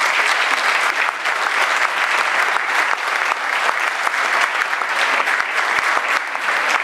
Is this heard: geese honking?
no